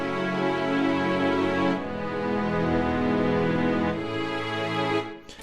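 Layered stock string patches in FL Studio are mixed together into a full, sustained ensemble that holds rich chords and shifts harmony twice, loud and steady, before fading out at the end.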